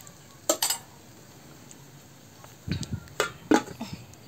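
Olives being stirred in a pot, with a few sharp clinks of a spoon against the metal and soft scraping, in short bursts separated by quiet pauses.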